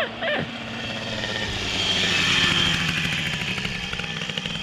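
MBK 40 moped with a two-stroke engine revving on a test ride, a buzzing whine climbing in pitch, peaking, then easing off, close and loud with a brief thump at the start.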